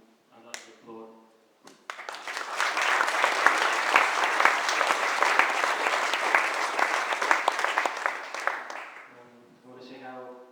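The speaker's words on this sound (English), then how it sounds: "And I think I'd like to applaud." A room full of wedding guests breaks into loud, sustained applause after a brief spoken remark during the speeches, then the clapping fades as talk resumes.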